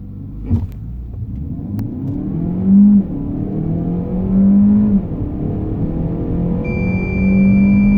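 A Peugeot 508 PSE plug-in hybrid with a 1.6 engine, 360 hp and an automatic gearbox accelerates hard, its engine note rising and falling through gear changes as a loud, close, continuous drone.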